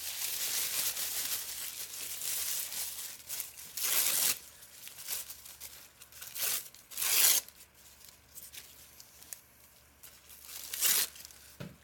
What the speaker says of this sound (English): And I like to crumple it